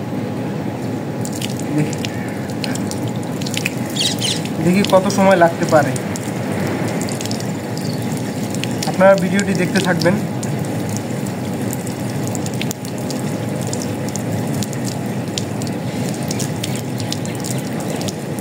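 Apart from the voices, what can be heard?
water poured over ice in a glass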